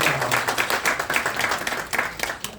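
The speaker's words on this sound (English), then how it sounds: "Can we have a round of applause for all of them?" An audience claps for scholarship winners at a town event, producing a brief burst of scattered, moderately loud applause from a small crowd, with no voices over it.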